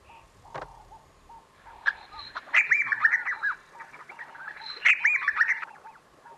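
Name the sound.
person imitating bird calls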